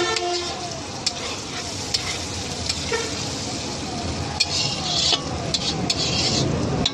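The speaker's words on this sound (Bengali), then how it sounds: "এটাকে হালকা হালকা করে নেড়ে কিছুক্ষণ ঢেকে রাখবো।" Small fish frying in a pan with lentils, gently stirred, giving a steady close sizzle with scraping strokes of the spatula throughout.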